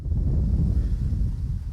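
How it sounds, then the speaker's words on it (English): Strong wind buffets the microphone near Pabineau Falls in the Bathurst area, a dense low rumble that gusts continuously throughout, with no voices. "Quite windy."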